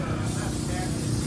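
Brake cleaner sprays in a steady, loud hiss across an engine at a drag racing event, continuous for the whole short stretch with a low rumble underneath.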